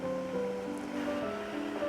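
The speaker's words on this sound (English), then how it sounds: "you're gonna now see how the water is bubbling over like that" Rice water boiling hard and bubbling over the rim of a pot on super high heat while cooking Korean rice, a steady close hiss and fizz of bubbling with tonal whines running through it.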